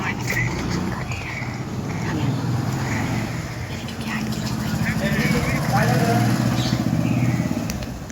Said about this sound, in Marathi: गाड्यांचा आवाज एक असा येतो ना भाई